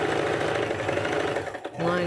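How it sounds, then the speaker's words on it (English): A sewing machine runs steadily with a fast, continuous mechanical stitching hum, briefly pausing near the end before starting again; voices are faintly present. "And we just get in the sewing machine."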